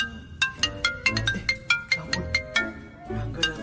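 A mobile phone rings for an incoming call, a bright chiming ringtone melody of quick repeated notes, clear and close with no talking over it.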